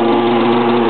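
A small racing boat with a Korean engine at a regatta at San Giorgio di Nogaro gives a brief, steady buzzing drone, loud and close, with no talking.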